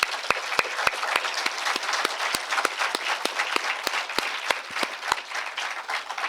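An audience at a law college orientation programme claps loudly and continuously, with sharp individual claps standing out in a steady rhythm across the whole stretch.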